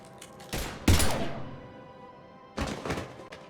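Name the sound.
gunfire from the video game Mass Effect Legendary Edition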